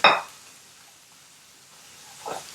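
Raw potato pieces hit very hot oil for French fries with a sharp sizzling hiss at the start, fading quickly, then a second, softer burst of sizzling near the end. No one talks.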